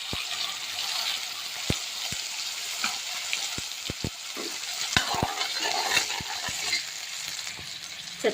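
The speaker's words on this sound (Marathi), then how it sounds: "आपले तेल कडकडीत गरम झालेले आहे। त्यामध्ये आपण मोहरी, जिरे, तेजपान घालू।" Mustard seeds, cumin and bay leaf sizzle steadily in very hot oil for a Maharashtrian drumstick curry, with a bright continuous crackle broken by sharp pops and spits throughout, close and fairly loud, no talking.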